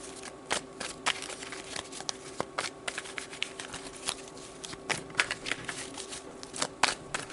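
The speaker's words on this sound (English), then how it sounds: "So let's pull some tarot cards to see what that's about exactly." Tarot cards are shuffled by hand in quick, irregular riffles and flicks, close and fairly quiet, with soft crisp snaps repeating throughout.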